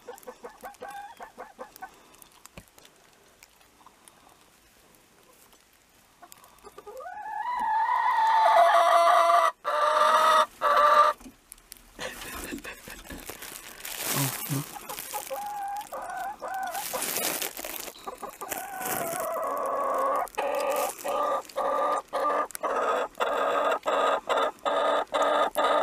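A hen clucks and scolds from a nesting box in a winter henhouse, her calls starting soft and growing into loud, insistent squawks and bursts of cackling, close by and continuing almost without pause.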